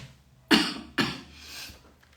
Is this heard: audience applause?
no